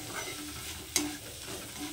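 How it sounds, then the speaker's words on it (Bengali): Egg bhurji with green chillies sizzling steadily in a frying pan, with one sharp, close scrape of a spatula stirring it partway through. "তো আমি এটাকে আর একটু ভেজে নেব।"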